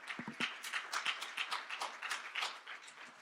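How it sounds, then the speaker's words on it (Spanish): A church congregation claps during a Palm Sunday service: a fairly quiet run of separate, evenly spaced claps with a few heavier thumps near the start, sounding like a modest group rather than thunderous applause. "Dale un aplauso a Dios, ponte de pie."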